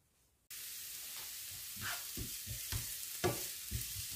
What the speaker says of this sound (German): Und dann werden darin jetzt gleich die Zwiebeln angebraten.